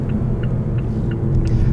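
A 2018 Mazda6 engine pulling under throttle while driving, a loud, steady low drone with road rumble heard from inside the cabin.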